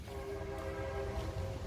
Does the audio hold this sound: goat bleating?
no